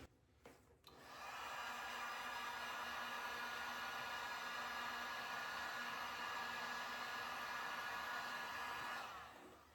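Heat gun blowing hot air over resin poured on a black board, a steady, loud, broadband whoosh starting about a second in, holding constant for roughly eight seconds, then cutting off, with no talking.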